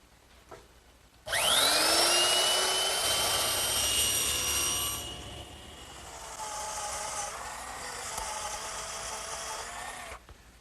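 A router fitted with a 1/4 inch round-over bit spins up with a loud, steady high whine, then cuts along a bookcase board's edge, its pitch dipping and wavering under load before shutting off.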